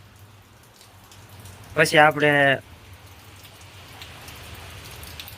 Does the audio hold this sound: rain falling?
yes